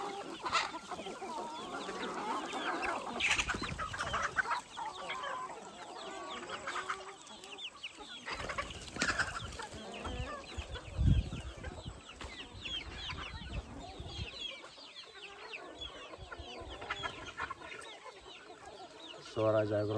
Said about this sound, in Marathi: असं आपलं नॅचरल पद्धतीने मुक्त संचार गावरान कोंबडी पालन आहे.